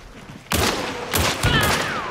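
Gunfire crackles in a video game shootout in Hunt, several sharp bursts of shots close together over a couple of seconds, loud and near with faint voices underneath.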